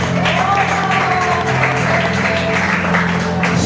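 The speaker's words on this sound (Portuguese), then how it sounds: "receba o servo do Senhor com a salva de palmas" A church congregation claps for a preacher welcomed at a Sunday service, steady sustained applause with voices and a low musical hum underneath.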